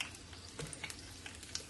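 A battered corn dog fries in hot oil with a steady, close crackling sizzle and scattered sharp pops, and nothing else is heard.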